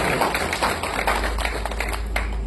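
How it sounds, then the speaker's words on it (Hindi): An audience at a Chhattisgarhi poetry gathering claps loudly and steadily for a humorous poet, a dense wash of many hands going on without a break. "मैं चाहता हूँ एक बार जोरदार ताली भाई"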